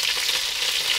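Chicken drumsticks sear in a Dutch oven, giving a loud, steady, continuous sizzle and crackle of frying with no voices.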